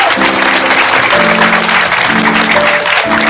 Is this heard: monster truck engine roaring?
no